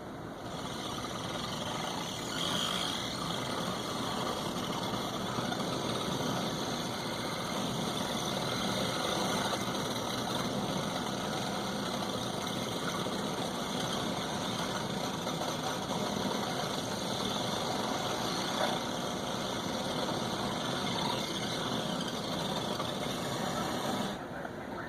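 The Quake video game rendered as oscilloscope audio makes a steady, buzzy electronic drone with a faint hum, continuous and fairly quiet throughout, with no voices.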